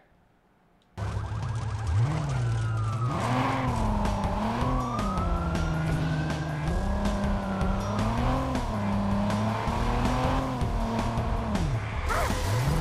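A car in the video game Watch Dogs, resembling a Mitsubishi Evo, revs loudly after a quiet start, its engine rising and falling through gear changes with tire squeals and skids, continuous and close.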